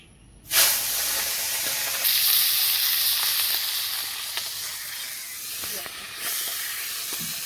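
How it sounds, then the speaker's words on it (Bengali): Small fish dropped into hot oil in a wok over a village cooking fire set off a sudden loud hiss that continues as a steady, bright sizzle, swelling again briefly later. "দেখো প্রথমে মাছটাকে আমি ভেজে দেবো"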